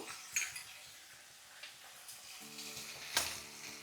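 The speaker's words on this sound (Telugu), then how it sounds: "ఉల్లిపాయలు మటుకి మంచి కలర్ వచ్చేంత వరకు వేగనివ్వాలి" Onions frying in a pan for potato kurma, a quiet soft sizzle with occasional light clicks and clinks of a utensil against the pan.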